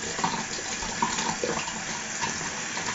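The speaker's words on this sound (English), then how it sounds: "get some water in my brush" Water runs steadily from a bathroom tap to wet a shaving brush before loading it with soap, a constant splashing stream that is close and fairly loud, with no talking.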